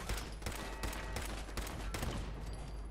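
Bursts of automatic turret gunfire from Fallout 4 rattle in dense, rapid volleys with brief gaps, loud and close throughout, no talking.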